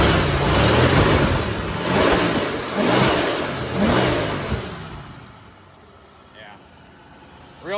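A 1967 Ford Mustang with a 289 V8, revved in several loud, close throaty bursts that rise and fall in a regular rhythm, then dropping back to a quieter idle with a quick blip at the end.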